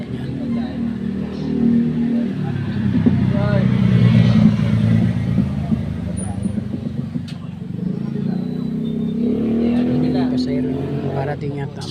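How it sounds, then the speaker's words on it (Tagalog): Motorcycles and other vehicles arrive and line up in a queue, engines rumbling and swelling as they pass nearby, then idling and pulling in, while someone talks over the traffic noise. "Ito na yung dating na mga sasakyan na mga katuda."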